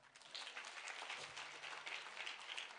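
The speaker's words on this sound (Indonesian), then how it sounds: "Tepuk tangan bagi dia" A church congregation in a hotel applauds steadily for a few seconds, a dense continuous patter of many hands clapping at moderate volume.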